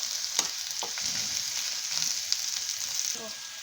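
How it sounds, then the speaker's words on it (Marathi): Onion fries in oil in a kadhai, a steady bright sizzle with occasional sharp crackles and a few soft stirring knocks, close and fairly loud with no talk. "कांदा आपल्याला तेल टाकून भाजून घ्यायचा आहे चांगला"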